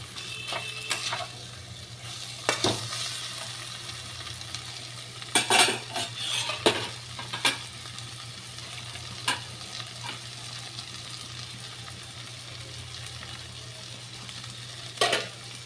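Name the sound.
spinach being stirred and fried in a pan with a spatula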